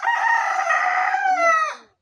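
A farmyard rooster, one of a flock of free-ranging chickens kept at home, gives a single loud, close crow lasting about two seconds, with no voices around it.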